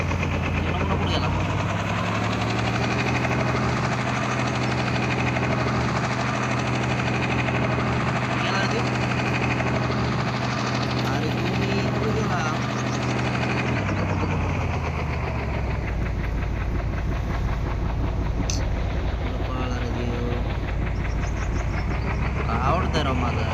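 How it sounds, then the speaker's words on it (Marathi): A police helicopter runs close by, its engine and rotor producing a loud, constant droning whine that shifts in pitch partway through, with voices talking over it. "पोलिसाचं हेलिकॉप्टर बोलतो आपण"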